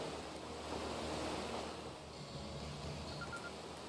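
Steady rushing water from a video game waterfall, a broad continuous roar that holds at an even level throughout with no voices over it.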